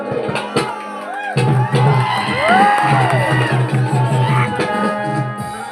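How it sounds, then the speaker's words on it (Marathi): A crowd at a Naman folk art stage performance cheers loudly, with shouts, whoops and whistles rising over a dense roar that carries through the whole moment. "किती लोकांना नमन आवडत असेल तर टाळ्या वाजवा"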